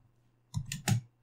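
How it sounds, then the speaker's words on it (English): A couple of close keystrokes on a computer keyboard while entering a sudo terminal command on Ubuntu, two or three quick clicks in an otherwise quiet room. "Now we type in sudo"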